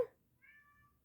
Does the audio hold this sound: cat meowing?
yes